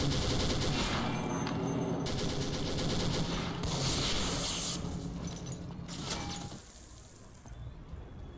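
Sustained machine gun fire in the World War II shooter Day of Defeat, a dense, loud run of rapid shots lasting several seconds before easing and thinning out toward the end.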